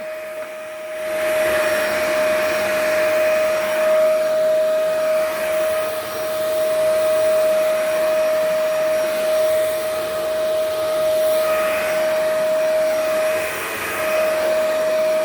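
Commercial vacuum cleaner switched on and running over carpet, a steady loud motor whine with a strong constant tone and airy rushing suction, starting after a brief quiet moment and holding on evenly.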